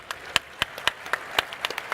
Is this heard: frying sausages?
no